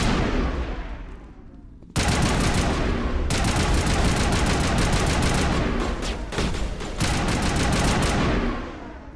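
Sustained turret gunfire from the Mass Effect video game on Noveria, a loud dense stream of rapid shots that runs nearly nonstop with brief gaps and fades near the end.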